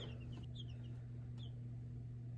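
Baby chicks peep in a brooder box, a few high thin chirps in quick clusters over a steady low hum, faint and close.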